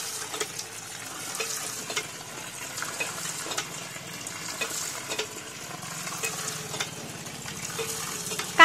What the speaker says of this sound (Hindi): देखिए पानी आना स्टार्ट हो चुका है